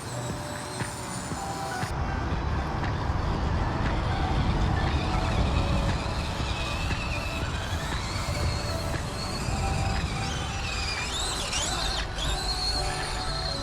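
FMS FCX18 Toyota LC80 RC crawler with portal axles crawling over rough ground in low gear, giving a continuous gritty whir and rumble of the small motor and gears, close and steady.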